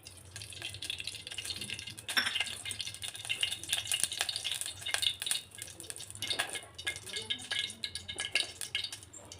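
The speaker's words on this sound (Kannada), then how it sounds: "ಪಾತ್ರೆ ಬಿಸಿ ಆದಮೇಲೆ ಒಂದು ಸ್ವಲ್ಪ ಎಣ್ಣೆ ಹಾಕಿ." Oil heats and sizzles in a pan on a kitchen stove, a crackling fry under frequent metallic clinks and scrapes of utensils against the pan.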